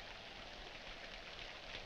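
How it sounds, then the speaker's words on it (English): Rain falling outside, a steady, soft, even hiss with no distinct drops, faint and continuous throughout, with no voices. "In this rain? Yes, in this rain."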